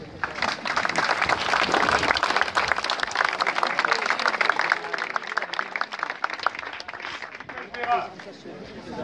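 An audience at a commemoration gathering breaks into sustained applause, dense clapping that stays loud for several seconds before thinning toward the end, with a voice speaking over it.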